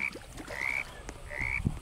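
A frog in the survival video game 99 Nights in the Forest gives short, repeated croaks over a steady low background, quiet and fairly close, with no talking.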